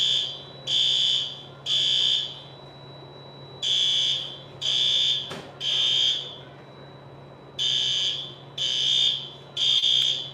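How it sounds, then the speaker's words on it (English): An indoor building fire alarm blares in a steady three-pulse pattern, loud piercing electronic beeps repeating in groups with short gaps, no voices over it. "The fire alarm just went off."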